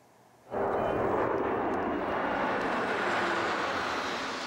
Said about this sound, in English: flying over the 4th Avenue tree line, the historic C-17 Globemaster of the 429 Bison Squadron pays honor